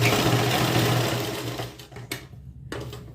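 A sewing machine runs steadily as it joins the seams of a 46-inch-chest kurti, a loud continuous whir that slows and breaks into a few short bursts near the end, with no talking.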